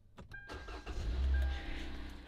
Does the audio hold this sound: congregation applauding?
no